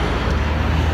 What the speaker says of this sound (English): All that traffic.